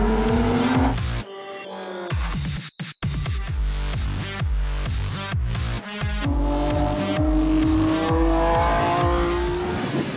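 An Infiniti Q50 Red Sport accelerates hard on a track, its loud engine climbing through repeated revs with abrupt gear-shift breaks and short pauses between pulls.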